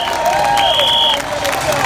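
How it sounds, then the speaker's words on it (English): A crowd at an outdoor People's Vote march on Brexit applauds Steve Coogan, dense clapping and cheering spread across the whole stretch with whistle-like tones cutting through. "The applause is for Steve Coogan"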